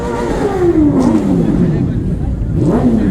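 Superbike engines at the Madikeri Yuva Dasara superbike event: a loud, close engine rev with a falling pitch that rises again near the end, amid crowd noise and voices.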